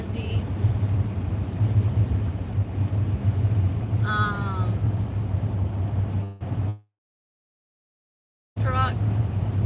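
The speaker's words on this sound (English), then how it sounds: "Truck." A truck rumbles past nearby with a steady low roar and a crow cawing partway through, then the sound cuts out completely for about two seconds before resuming.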